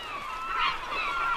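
Seabirds calling over a feeding humpback whale at sea: a brief run of honking, goose-like cries, fairly faint and close together, with no other sound.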